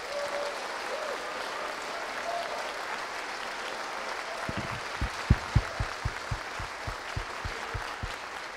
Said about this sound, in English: So I would love you to give a round of applause to the development team,